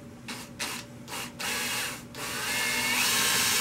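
A power drill with a 1/4 inch bit whirs into wood in short bursts, stopping and starting a few times before running steadily and loud at close range.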